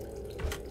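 A brief trickle of water runs into a sink in the video game Prey, faint and close, with a soft drip near the end.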